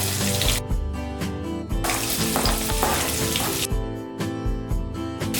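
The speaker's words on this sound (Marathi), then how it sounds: "कांदा आपण छान असा परतून घेऊया" Onions and curry leaves sauté in hot oil in a pan for dal khichdi, giving a loud continuous sizzle with brief stirring surges and no talking.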